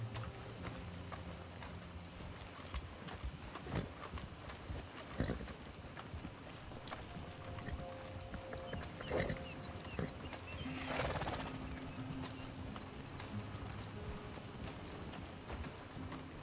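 A horse being trained in Red Dead Redemption 2, its hooves clip-clopping in irregular steps over quiet game ambience, with the odd snort or whinny, faint and distant throughout.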